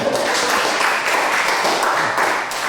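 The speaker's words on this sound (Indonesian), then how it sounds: "Nah, tepuk tangan semuanya." Audience applause at a Buddhist talk, a dense, steady wash of many hands clapping together that holds at an even level for a few seconds with no voices over it.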